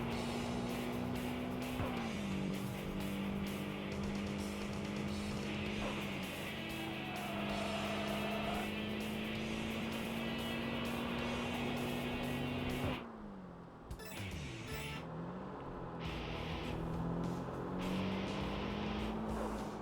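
A high-revving racing engine in Tokyo Xtreme Racer 3 drones steadily, its pitch climbing and shifting through gear changes before briefly dropping and surging again, loud and close.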